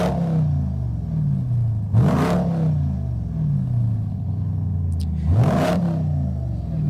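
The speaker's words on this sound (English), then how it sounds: "was actually behind the wheel revving it at this point" A Ram TRX pickup truck at a Texas truck rodeo idles with a deep rumble, then revs sharply twice, each throttle blip rising loud and close before dropping back to a low idle.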